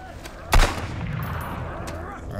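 A single sharp gunshot from a weapon in the video game Sunkenland cracks loudly, followed by a faint decaying tail and low background ambience.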